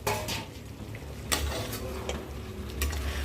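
Chicken biryani masala is stirred in a pot, a dense sizzle under repeated scraping and clinking of a ladle against the metal.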